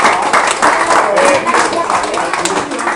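Dense, steady clapping from a small group at a Goldwing motorcycle club gathering in the Jura, 2014, filling the full three seconds with voices talking over it.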